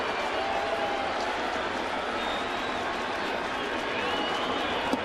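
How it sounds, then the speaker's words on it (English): A baseball stadium crowd roars and cheers steadily as it hopes for a strikeout in a 2012 Rays game, a broad, distant wash of noise with faint talking in the background. "Crowd looking for a strikeout."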